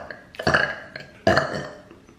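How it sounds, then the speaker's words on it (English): A woman burps twice in quick succession, each a loud, close, raspy eructation lasting roughly half a second or more, the second one stronger and more drawn out. "I can't stop burping either."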